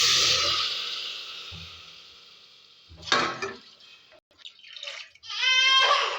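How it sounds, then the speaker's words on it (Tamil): Water poured into a pan holding soaked rice and lentils for a carrot and beans rice meal, a splashing pour in bursts with a steady hiss, close and moderately loud, no talking. "தண்ணியோடையே சேர்த்துட்டு கொஞ்சமாக தண்ணி ஊற்றிக்கலாம்."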